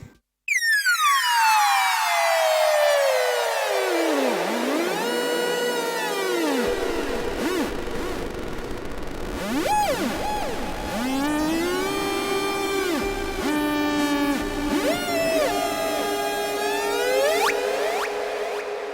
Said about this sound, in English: So I will add now a delay FX and a reverb FX.